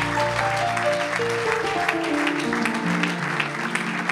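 A church congregation applauds steadily and warmly under gospel worship music, with layered organ and keyboard tones carrying on beneath the sustained clapping.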